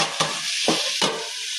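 Food stirred and mixed in a frying pan, with three distinct scraping strokes over a steady sizzle, close and fairly loud.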